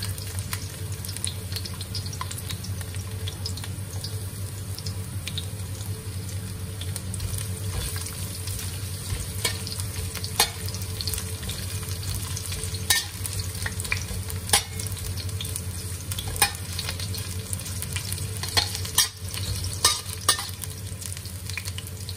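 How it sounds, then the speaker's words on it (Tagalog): Garlic and ginger sautéing in a pan for Chinese-style chicken feet adobo with shiitake mushrooms, a steady close sizzle and fry with scattered stirring clicks and scrapes throughout. "Mag-isa na tayo ng bawang."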